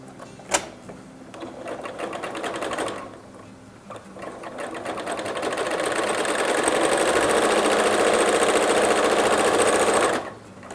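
A sewing machine stitching lining fabric for an Easter gift bag, with a short burst, a pause, then a longer steady run of rapid stitching that stops abruptly, close and clear with no talk.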